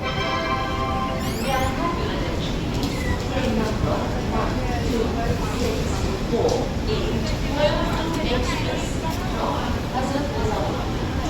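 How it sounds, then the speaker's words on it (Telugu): An express train rolls into Anantapur railway station with a steady, loud rumble of wheels and carriage noise throughout, while a voice speaks over it. "arriving Anantapur railway station"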